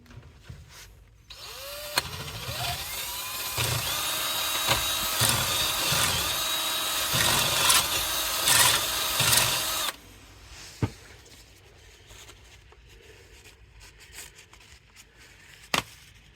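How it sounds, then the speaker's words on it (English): A power drill spins a drill bit through a rusty caliper slide pin bore, a steady whining run of about eight seconds with slight load changes, followed by a few faint clicks and taps. "grab a drill bit that's the same size as your caliper pin and just run it through there"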